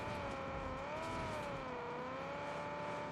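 A steady car engine in Far Cry 6 hums with a slowly rising and falling pitch, a smooth synthetic drone like a game vehicle cruising, with no talk.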